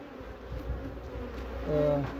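Honeybees buzz around a treated beehive in a low, steady drone close by, swelling slightly louder toward the end.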